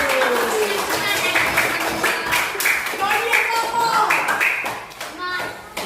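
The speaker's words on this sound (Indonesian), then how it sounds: "Kasih aplaus dulu sama Adit." Fifth-grade classroom pupils clapping together for a classmate, a dense burst of hand claps mixed with children's voices and chatter, close and lively throughout.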